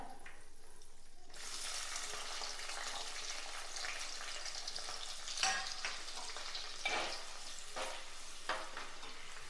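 Sliced onion and green chilies fry in hot oil with mustard seeds, giving a steady close sizzle with a few louder crackling bursts and no talking.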